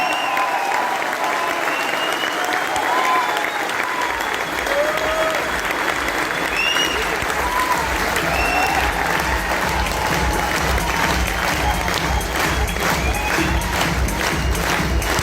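Sustained, loud audience applause at a grand business summit in Delhi, a steady roar of many hands clapping with some cheering mixed in, lasting throughout without a break.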